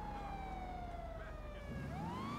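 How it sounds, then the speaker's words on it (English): Police siren on an Impaler LX Cruiser in GTA Online, a steady electronic wail sliding down in pitch then sweeping back up, loud and continuous with no talk. "And the siren actually does work."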